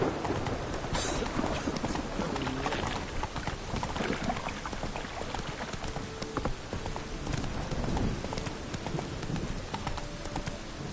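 Roach, a horse in the video game The Witcher III, galloping in a steady clip-clop of hooves that runs throughout over dense game ambience and music.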